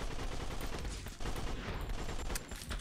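Dense, continuous gunfire in the zombie-emoji survival shooter Kill the Emoji, a steady rattling barrage of rapid shots running throughout at close range, with no speech.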